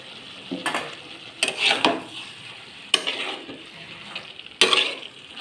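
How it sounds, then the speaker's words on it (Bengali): Bottle gourd being sautéed with spices in a pan over medium flame: several brief bursts of stirring scrapes and soft sizzling, close and moderately loud, with quiet gaps between and no talking. "মশলার সঙ্গে লাউটিকে ভালো করে কষিয়ে নেব"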